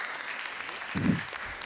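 A crowd at the TechChill 2018 startup pitch event applauds as the next founder is called to the stage. The dense clapping is even and moderately loud, and it swells briefly near the end.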